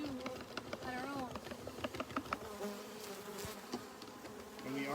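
Honey bees buzz steadily during a hive inspection, a dense close drone with individual bees whining past, while a person talks faintly underneath.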